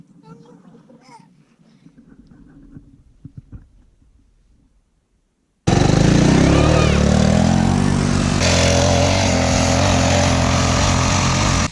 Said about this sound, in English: I just got that three-wheeler a couple months ago and redid a couple things, the carburetor and the seat